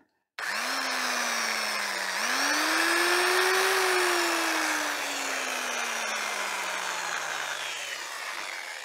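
An old two-speed electric drill switches on and runs steadily, its motor whine rising in pitch, then slowly winding down while still running, loud and close.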